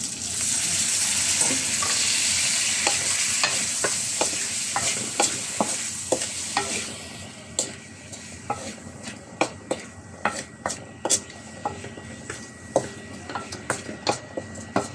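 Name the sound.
chicken chop suey stir-frying after adding soy sauce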